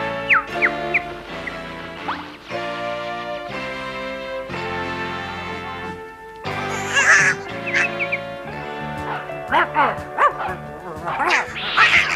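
A cartoon dog barks in a French animated educational series, with a few yapping barks over background music and voices that talk between and around them.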